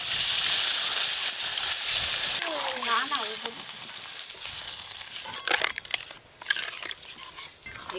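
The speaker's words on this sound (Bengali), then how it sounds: "আলু মশলা ভালো করে কষে নিয়েছি, এবার জল দিয়ে দেবো।" Water poured into a pan of sautéed spiced potatoes for a village-style vegetarian aloo dum: a broad hiss and bubbling surge, then softer sizzle with a few clattering knocks near the end.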